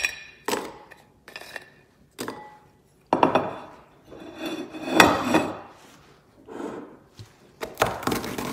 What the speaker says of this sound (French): les spéculoos, on va les casser dans un bol